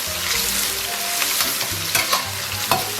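Chili sauce and doubanjiang sizzle steadily in hot oil in a wok, with scraping stirs and small spits breaking through the close, continuous frying.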